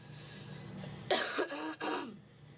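A person with a week-long cold lets out two or three rough, phlegmy coughs in a row, close and fairly loud against a quiet room hum, then silence.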